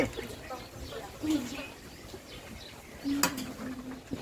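A bird calling outdoors with a few soft cooing notes, one near the start and another longer call toward the end, alongside people talking and background noise.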